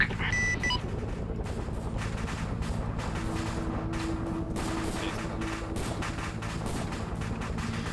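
Gunfire rattles through an Arma 3 Vietnam-themed operation near an enemy bunker, steady bursts and scattered shots at moderate distance, fairly quiet overall with a brief louder crack at the start.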